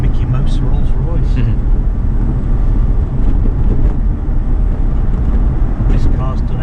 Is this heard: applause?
no